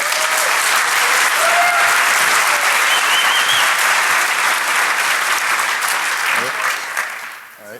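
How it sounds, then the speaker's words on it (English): Audience applause fills a hacking conference hall, loud and sustained clapping from a large crowd that holds for several seconds before gradually tapering off at the end. "Please give him a big round of applause."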